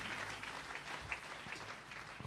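A congregation applauds God in a church on Palm Sunday. The clapping is soft and steady, a distant wash of many hands that continues without a break.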